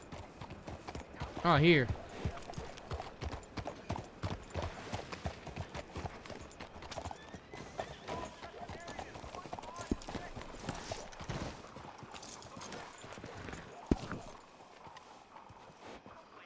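Horse hooves clip-clop at a steady walking pace in a Western video game, close and continuous, with occasional tack jingles. A person talks briefly over the hoofbeats.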